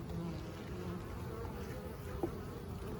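Steady, low insect buzzing drones throughout, a dense hum of many honey bees close by in a hive's top box in winter, with one brief faint tap near the end.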